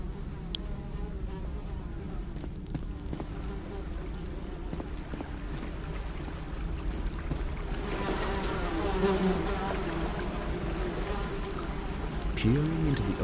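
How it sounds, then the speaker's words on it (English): Flies buzz in a dark cave-like area of a video game, a continuous droning hum with rising and falling whines, a faint rush of water far off and a narrating voice over it. "Despite the buzzing flies"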